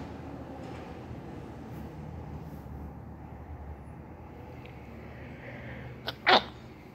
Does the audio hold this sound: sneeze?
yes